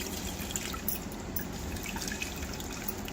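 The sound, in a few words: pouring strained beetroot juice into a tumbler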